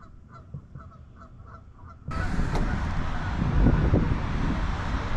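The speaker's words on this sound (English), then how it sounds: "Look at those geese." Repeated honking calls from geese sound in the distance over a quiet background, then a sudden loud wash of rushing noise takes over.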